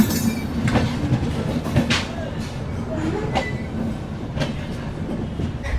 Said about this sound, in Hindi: काफ़ी धीरे धीरे ट्रेन यहाँ से निकल रही है क्रॉसिंग से होती हुई